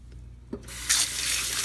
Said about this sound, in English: I'm going to rinse it some more.